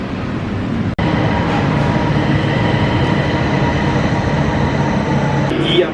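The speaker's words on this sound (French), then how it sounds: "Il n'y a pas de chauffeur dans le métro ici" Ride aboard an automated, driverless BTS metro train: a steady, continuous rumble and rolling noise inside the carriage, with one sharp click near the start.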